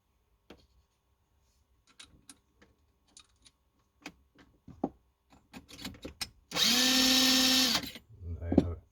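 A power trimmer whirs in one loud steady burst of a little over a second as it trims a .300 Win Mag brass case, after a quiet run of small clicks and handling taps and before a short rattle.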